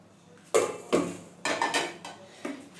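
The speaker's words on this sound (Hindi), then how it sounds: "तो इसको इस बर्तन में हम निकाल लेंगे" Roasted food is scraped and tipped from a pan into another vessel, with several sharp metallic clanks and scrapes of a spoon against cookware at uneven intervals, close and clear, with no talk.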